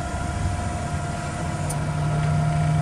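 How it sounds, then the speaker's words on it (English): 2013 Hyster 5k cushion-tire forklift with an LP gas engine idling, a steady smooth low hum with faint mechanical whine, close and unchanging over a few seconds. "Has a smooth, clean-burning LP gas engine."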